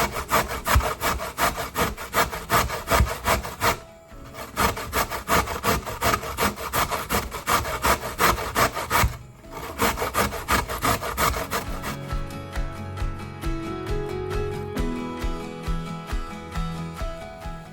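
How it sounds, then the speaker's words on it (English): A carrot rubbed hard against a grater in a steady run of close, rhythmic scraping strokes, with two brief pauses, then softer clatter as the work area is tidied. "I'm going to use this side of the grater to just shred the carrot small"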